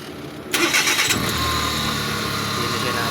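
A washing machine motor, just repaired after its 15A fuse kept blowing, kicks on abruptly and settles into a steady running hum with a faint whine, close and continuous, with voice-like sounds partly audible in the background.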